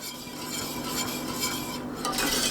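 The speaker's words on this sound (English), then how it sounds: "And just keep stirring. So we want a kind of a thick consistency." A spoon steadily stirring thick polenta in a pot, a continuous close scraping and soft sloshing with a slight sizzle underneath, no voices.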